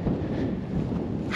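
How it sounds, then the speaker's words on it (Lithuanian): On a freezing winter evening, wind gusts buffet the microphone in a short, low, steady rumble with no other distinct sounds. "Šala, vėjas nerimsta vis tiek."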